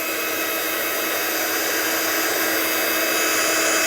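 A heat tool blows hot air to dry embossing on a stamped card, a loud, steady, close whooshing roar that continues unbroken throughout.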